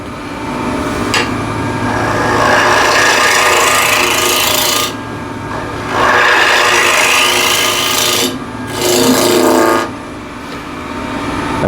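A wood lathe spins at 1600 RPM while a tool cuts yew, giving loud scraping, rasping bursts of a few seconds each, separated by short quieter gaps where the motor hum carries on alone.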